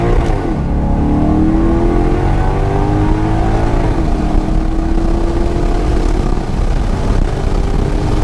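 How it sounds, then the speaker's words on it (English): A 454 hp Maserati GranTurismo Sport engine revving in a first-gear pull, loud and continuous, its pitch climbing steeply and then holding high, heard from inside the car with no talking. "We're gonna do a first gear pull."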